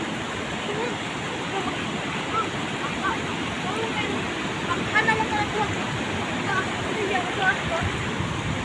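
A loud, constant roar of rushing typhoon floodwater carrying large logs fills the air, a broad churning wash with occasional splashes, steady and close throughout.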